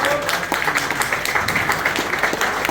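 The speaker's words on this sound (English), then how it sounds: "Round of" An audience at a show applauds an award-winning champion, with a dense patter of clapping at moderate loudness and a voice talking over it.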